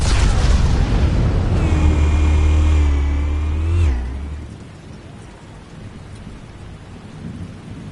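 A big explosion in the Batman Telltale video game, a loud rumbling roar with a rising tonal whine that cuts off sharply, then fades into quieter crackling debris.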